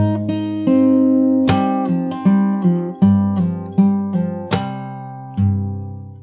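Fingerstyle acoustic guitar plays the next section of a song, with repeated plucked melody notes over low bass strings and a few sharper accented strums, close and steady with no talking.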